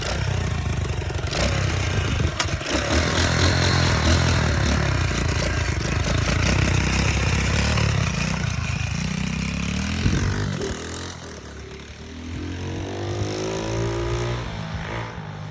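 A 125cc dirt bike engine runs loudly and close after a kick start, a dense rough rattling drone that holds steady, then dips in speed near the end before settling into a lower idle.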